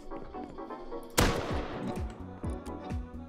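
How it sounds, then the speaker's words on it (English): Gunfire from a raid in the game Rust rings out in the distance, one sharp loud shot followed by a scattered burst of softer echoing reports. "I heard a raid in the distance."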